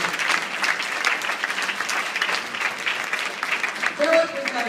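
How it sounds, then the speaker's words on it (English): Audience applause in a room full of people, continuous lively clapping at moderate distance, with a voice briefly audible near the end. "So, family, give them a round of applause."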